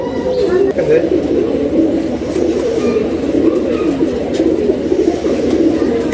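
Army line pigeons, a pair kept for sale, coo in low continuous murmuring rolls close by, with a person talking over them throughout.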